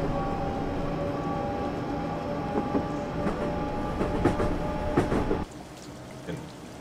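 A train in a video game, a Train Simulator UK route from Faversham to Rochester, rumbles past at steady volume with rhythmic clattering wheels, then the noise drops away abruptly, leaving a quieter hum.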